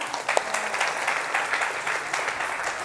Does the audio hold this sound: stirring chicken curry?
no